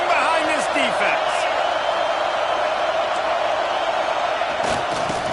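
A large stadium crowd at a college football game, Georgia against Alabama, roaring in a sustained wash of noise with scattered whoops, while an announcer talks over it.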